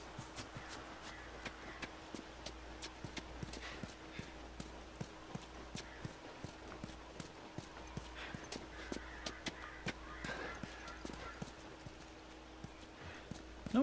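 Steady, rhythmic clip-clop of a horse's hooves as a rider travels through The Last of Us game world, continuous and close over a low background hum.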